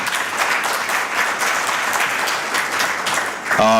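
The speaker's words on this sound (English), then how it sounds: "I think they do deserve a round of applause, ladies and gentlemen." Conference attendees at an Africa investment gathering in Nairobi break into steady, full-bodied applause lasting several seconds, with a brief tonal sound cutting in right at the close.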